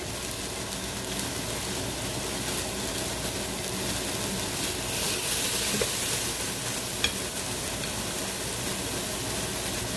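Beef pieces sautéing and being stirred in a hot pan for adobo, a steady close sizzle with occasional scraping and stirring clatter throughout, no voices.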